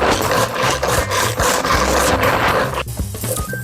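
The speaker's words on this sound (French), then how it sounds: "on va utiliser notre hacheur manuel pour qu'on puisse tout mixer" A hand-operated chopper minces shallots, garlic and parsley with loud, rapid, rasping whirs and clatters in close repeated bursts, with no talking.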